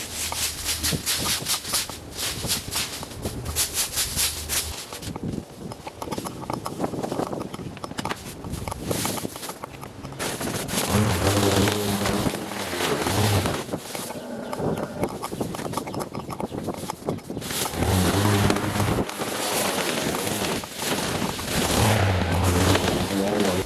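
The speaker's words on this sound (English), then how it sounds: "I'm going to mulch them with the mulch feature of my mower" A lawn mower runs steadily with its mulching feature chopping a pile of fallen leaves, a continuous close, loud engine drone with rough crunching bursts as the blades chew through the leaves.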